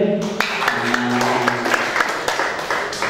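A crowd applauds three bands at a school arts and culture show, a steady wash of clapping with a short tonal voice or musical sound at the start.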